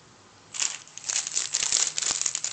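Thin, long plastic bags holding Katjes candy pigs crinkle and rustle close up in repeated handling bursts after a quiet start.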